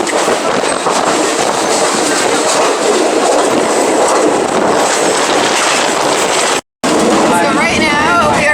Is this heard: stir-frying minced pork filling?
no